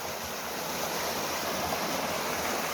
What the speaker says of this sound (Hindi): इस नदी को पार करते हुए हम